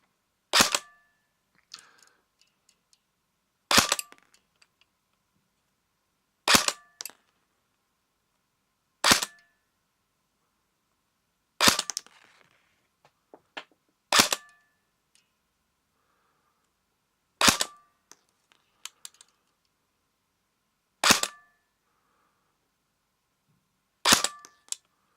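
A TM MP5K airsoft gun fires single shots, each a sharp, close crack followed by a faint mechanical clatter, repeated nine times at roughly even intervals of about three seconds with near silence between.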